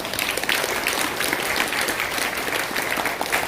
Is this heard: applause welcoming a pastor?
yes